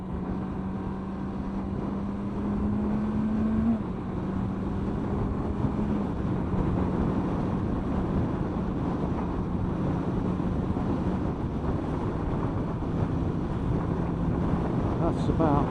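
A Honda CBR650F motorcycle with a double bubble screen riding at the national speed limit: steady loud wind roar buffeting the helmet over a low engine drone that shifts pitch slightly, sustained throughout.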